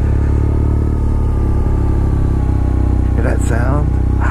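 A BMW R nineT motorcycle rumbles loud and steady at close range while being ridden, its engine note rising slightly near the end, with someone talking faintly under it.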